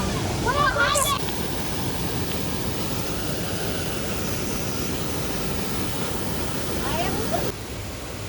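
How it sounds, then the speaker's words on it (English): A rain-swollen waterfall in Karura Forest, Kenya, gives a steady, dense broadband roar that stays constant throughout, with faint brief voices near the start and end. "the waterfall has grown big"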